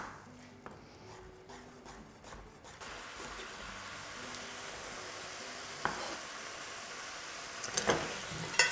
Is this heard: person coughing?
no